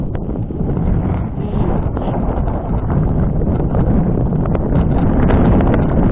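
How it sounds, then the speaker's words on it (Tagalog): Strong wind roars steadily across the microphone at the Pantabangan hanging bridge, a constant loud rumbling buffet with no voices heard. "Ay, lakas ang hangin"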